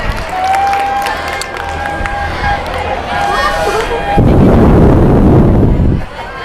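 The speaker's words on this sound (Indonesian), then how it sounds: "beri tepuk tangan" A group of people talk, then burst into loud applause for a taekwondo champion called forward, a dense clatter of clapping lasting about two seconds before it stops abruptly.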